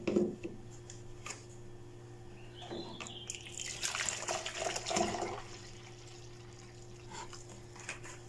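Water splashes and gurgles into a plastic fabric softener bottle as it is rinsed, a short burst of pouring and sloshing in the middle, alone, over a steady low hum.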